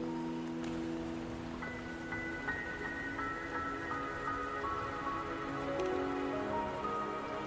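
Steady rain pours down across a scene in the video game Wuthering Waves. It forms a constant wash of drops and patter, with soft sustained musical tones layered over it and no speech.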